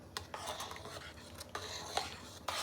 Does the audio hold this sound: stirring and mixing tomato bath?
yes